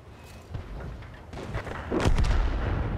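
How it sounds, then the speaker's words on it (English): A tank cannon fires in World of Tanks, a sharp deep boom near the two-second mark, with battle rumble and engine noise running throughout under faint earlier thuds. "We get a shot into the rear of the KV-1."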